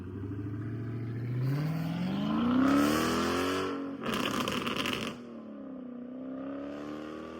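A Dodge SRT car is driven nearby, its engine rising in a revving, accelerating drone, swelling then easing, with a brief louder rushing burst midway before settling to a steady hum.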